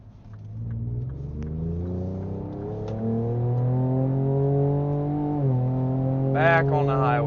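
A Ford Ranger Raptor truck accelerates while driving, its engine note rising steadily through the gears with a brief dip near the end, loud and continuous, with a short burst of another high sound at the close.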